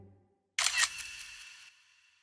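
A camera shutter clicks once for a selfie in an anime scene, a sharp mechanical snap followed by a brief whirring tail that fades out, heard alone after a short silence.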